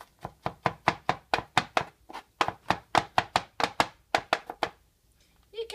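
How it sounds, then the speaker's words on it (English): Garlic chopped with a knife on a board during preparation of Lebanese sautéed okra: a rapid, steady run of close, crisp blade knocks with a brief pause midway, then one more stroke at the end. "you can chop them the way that you like"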